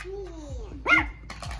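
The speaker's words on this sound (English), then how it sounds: "Oh, he growling now." Yorkshire Terrier puppy making a short, quiet growl and a small yip, close by, with faint rumbling and soft background noise; a couple of brief low grunts.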